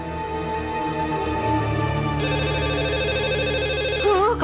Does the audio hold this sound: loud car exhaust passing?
no